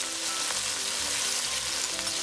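Steady, hissing sizzle of onions and marinade frying in a hot pan, continuous and fairly loud, with soft crackling throughout.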